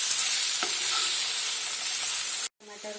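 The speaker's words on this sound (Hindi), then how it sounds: "इसमें टमाटर डालते हैं, इसे तेल छूटने तक भून लेते हैं" Tomatoes frying in oil for a spiny gourd (kakora) dish, a loud continuous sizzle with a faint clink of a spoon, close, cutting briefly near the end before the hiss resumes with a few light taps; no voices.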